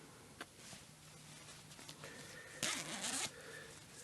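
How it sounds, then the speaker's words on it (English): A plasticized zipper with a metal-reinforced end on a German Army parka liner is drawn in a quick burst near the end, preceded by faint rustling and small handling taps. "Got a plasticized zipper with metal reinforcement at the end."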